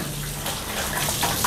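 Golden apple snails get washed in water, a steady close rush and slosh of running water that fills the whole short moment without any talk.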